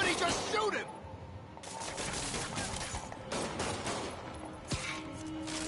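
Gunfire in the Spider-Man video game, rapid bursts of shots rattling close amid game noise, with voices talking over it.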